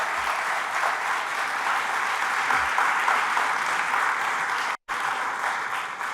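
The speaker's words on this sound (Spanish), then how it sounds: "Fuertes aplausos al Rey de Reyes y al Señor de Señores" A church congregation applauds steadily throughout, a dense and even wash of many hands clapping at a moderate distance, broken only by a very short dropout near the end.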